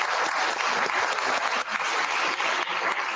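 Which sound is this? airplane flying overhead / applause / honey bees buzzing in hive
applause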